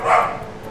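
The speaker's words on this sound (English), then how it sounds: "I can't calm my dog down as long as the neighbor's dogs are barking" A single short dog bark rings out, fairly loud and close, with a little lingering tail after it.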